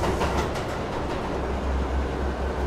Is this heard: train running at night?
yes